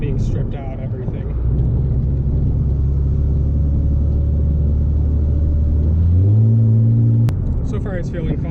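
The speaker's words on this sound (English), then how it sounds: "You do get a lot of rattles in this car, from the suspension, from the side skirts, the trunk being stripped out, everything." Chrysler Crossfire SRT6 with a stripped-out trunk, its engine giving a loud, steady low drone that climbs in pitch near the end, with suspension and body-panel rattles mixed in and a voice at the start and end.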